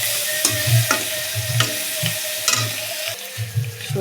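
Chandana dried fish with salt and turmeric frying in a little oil in a wok, a bright continuous sizzle with repeated low scraping stirs and clinks of the spatula, close and fairly loud.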